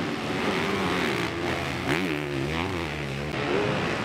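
Motocross bikes racing at a Round 4 Elite motocross event in Bitche, France, their engines holding a loud, steady snarl close by, with a rising rev and a brief throttle change mid-race.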